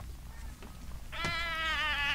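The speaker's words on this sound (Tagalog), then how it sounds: "Ay, pusa!" A cat lets out one clear, drawn-out meow partway through, close and fairly loud, after a brief quieter stretch of indoor background.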